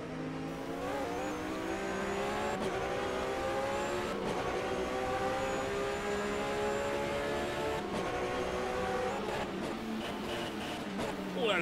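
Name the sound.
Porsche GT race car on track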